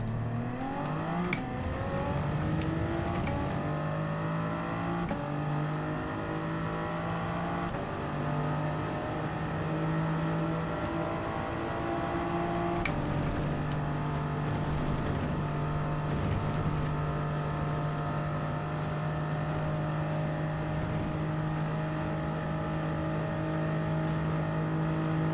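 A Toyota Supra Group 3 race car in Gran Turismo 7, racing at Circuit de Spa-Francorchamps, screams through rising gears with quick shift cuts early on, then holds a loud, steady high-rpm drone at speed.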